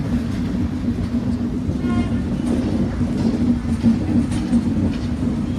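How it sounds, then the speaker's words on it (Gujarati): A passenger train slowly pulls away, a steady low rumble of wheels and carriages with faint rail clatter, continuous and close, no voices. "ટ્રેન હજી ચાલુ જ થઈ છે ધીમે ધીમે ધીમે ધીમે ધીમે જાય છે"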